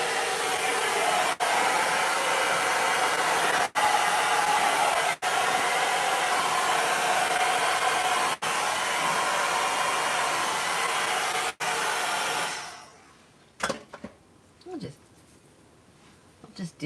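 A hair dryer runs steadily at close range while heating and styling a wig, a loud continuous rush broken by a few brief dips, then switching off near the end, leaving scattered handling noises.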